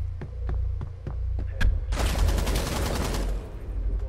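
Gunfire in the Rainbow Six Siege video game: several single sharp shots, then a dense rapid burst of automatic fire over low rumbling background.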